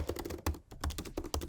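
Typing on a computer keyboard while editing text sections of a website template, a quick run of close clicking keystrokes with a short pause in the middle.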